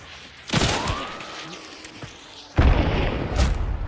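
A grenade blast in the video game Hunt: Showdown, a loud booming burst followed by a second heavy explosive crack with rumbling debris, with faint voice chatter in the background.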